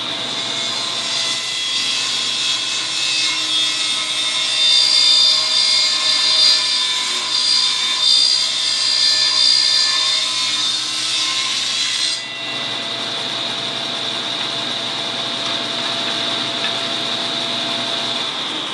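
A table saw makes a cove-molding pass, workpiece fed across the blade, giving a loud, steady, whining drone that shifts in tone about two-thirds through, with no voices.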